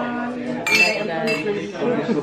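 Drinking glasses clinking together during a toast among friends, a couple of bright close chimes ringing over lively talking voices.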